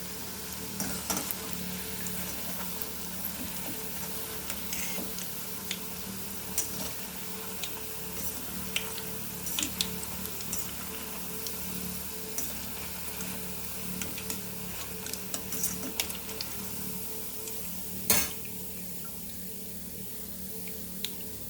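Onion pakodi deep frying in oil over a medium flame, a steady close bubbling sizzle with small crackles and light clinks throughout, fairly quiet, with no voices.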